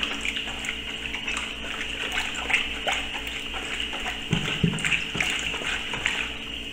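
Concentrated lauryl gel is stirred into a litre of water, giving a continuous wet sloshing and swirling with a few soft knocks against the container, close and steady.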